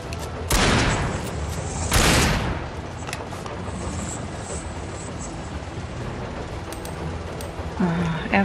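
Shotgun blasts in Alan Wake as enemies are fired upon: two loud booming shots about a second and a half apart, followed by a long stretch of low rumbling ambience and a softer mechanical clack near the end.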